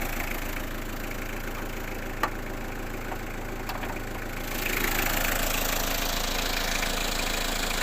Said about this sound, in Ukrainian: Дизельний мотор, а таке як бензиновий. Тихенький